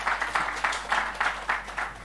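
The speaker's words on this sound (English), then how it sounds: "Please a round of applause" A small audience at a fashion talk event claps in a moderate, rhythmic pattern, with evenly spaced pulses of hands striking together at close range and a low hum underneath.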